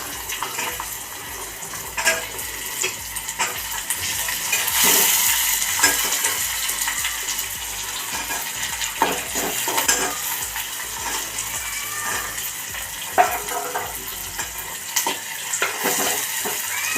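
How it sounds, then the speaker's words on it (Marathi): Onion, capsicum and peas frying in a pan: a steady, loud sizzle lasting throughout, with occasional stirring scrapes and no talking. "कांदा थोडा तळून झालाय तर आपण शिमला मिरची टाकूया आणि"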